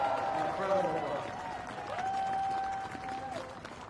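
Crowd at an outdoor political rally in Latrobe, Pennsylvania applauding law enforcement officers, steady clapping and cheering under a sustained tonal whistle or feedback.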